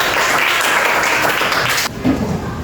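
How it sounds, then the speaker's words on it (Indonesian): A class of students claps together at a school lesson, a dense, loud burst of applause that cuts off sharply near the end, followed by brief quieter room sound. "Oke, tepuk tangan."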